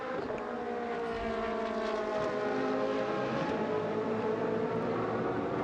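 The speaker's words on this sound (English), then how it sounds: "So the cars scream past us and head up towards turn number 1" Racing cars at the Jerez de la Frontera circuit scream past in a loud, continuous roar of overlapping engines, with rising and falling pitch as they pass close by and head away toward the first turn.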